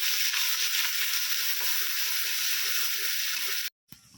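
Onion, garlic and ginger paste sautéing in oil, a close, even sizzle and hiss running steadily with faint stirring underneath, cutting out abruptly near the end before a short return.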